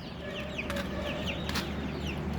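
Backyard chickens cluck in repeated short bursts over a steady bed of outdoor noise, with a couple of sharper calls standing out, moderately close and without talk.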